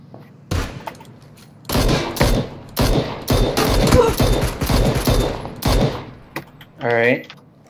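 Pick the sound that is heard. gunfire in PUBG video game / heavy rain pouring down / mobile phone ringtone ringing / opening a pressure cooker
gunfire in PUBG video game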